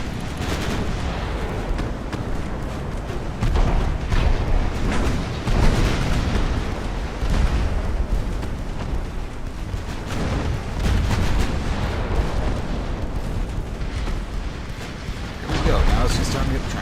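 In Ultimate Admiral: Dreadnoughts, a naval battle set in 1890, large artillery shells fire and burst in repeated booms and rumbling explosions with splashes of noise. The salvos come in irregular bursts, loud and layered, with people talking over them.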